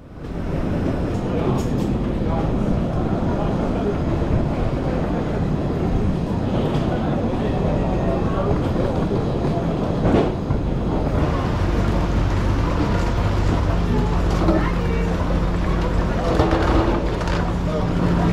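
Crowded RER platform at a busy Paris station, with a train rumbling and hissing nearby under a constant wash of crowd murmur and voices throughout.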